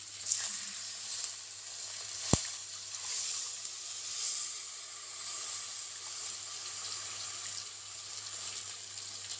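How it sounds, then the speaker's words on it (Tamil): Dissolved tamarind water is poured into masala sautéed in oil for a Nethili fish curry, giving a faint, steady sizzle and watery bubbling with one sharp clink partway through. "கரைச்சி வச்சுருக்க புளியை ஊற்றிக்கலாம்."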